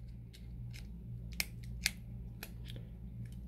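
A SIM card snaps into place in an Alcatel 356 phone, giving a few small, sharp plastic clicks, close and quiet over a low background hum.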